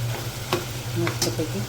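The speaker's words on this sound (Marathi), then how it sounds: "ह्या भाज्या मी जरा फ्राय करून घेते" Potato vegetables frying with onion and green ground paste in a pan, a steady sizzle with scraping stirs and clinks, and a brief word spoken over it.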